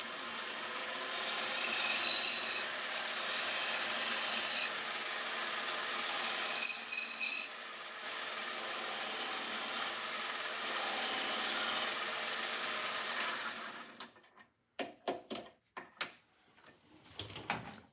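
Deburring Victor spring barrel end caps, with repeated rasping passes in uneven bursts followed by a quieter stretch of steady rubbing, ending in a few sharp clicks and taps.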